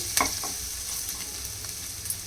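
Onions frying steadily in ghee in a pot, a continuous bright sizzle with a few faint utensil taps, no voices.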